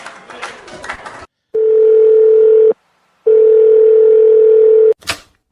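A telephone ringing tone, heard as a caller phones a radio station, sounds as two long steady electronic tones separated by a short silence, after a burst of busy background noise.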